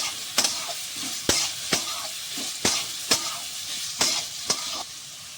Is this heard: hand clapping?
no